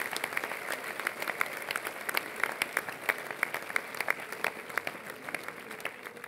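An audience at a François Bayrou political rally in Caen claps steadily, a dense field of individual hand claps sustained across the whole stretch at moderate distance.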